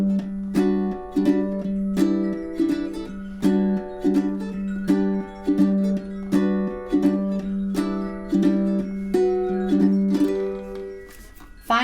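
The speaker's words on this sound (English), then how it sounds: "So again, the strum sounds like this." Ukulele strummed in a steady four-count pattern, repeated bright chord strokes with regular accents, close and clear with no talking.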